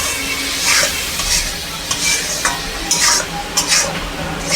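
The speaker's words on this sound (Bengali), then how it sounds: "মশলাটা খুব ভালো করে ভাজা ভাজা করে নেব।" A spice paste loosened with a little water is stir-fried in a pan for a katla fish curry. Loud, close scraping strokes and bursts of sizzle come in an uneven rhythm.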